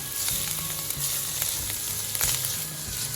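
Onions frying in a pan, a steady close sizzle and crackle with faint stirring noises and no talking.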